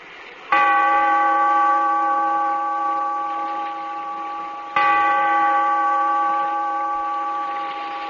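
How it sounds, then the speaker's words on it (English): A single deep bell tolls twice, about four seconds apart, each strike ringing out clearly and fading slowly in a long sustained hum, with no voices over it. "Bellkeeper, toll the bell"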